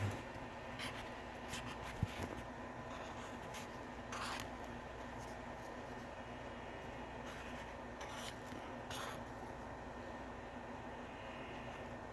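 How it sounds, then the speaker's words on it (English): A pen scratches across paper in short, soft strokes, quiet and close, with a few brief bursts of scribbling against a low steady background hum. "let me just draw up something here"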